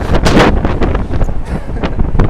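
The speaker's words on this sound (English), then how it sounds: "Ooh, that's windy. I hope you can hear that." Loud, gusty wind buffets the microphone in a continuous low rumble with rough surges throughout.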